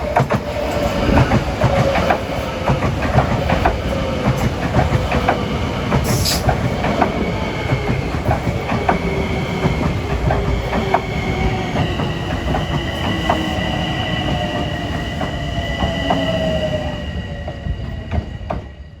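A Metro-North train, number 753 bound for Croton-Harmon, pulls into the station with loud rumbling and clickety-clack wheels, a rising squeal of brakes and wheels running beneath, then the noise tapers off as it slows.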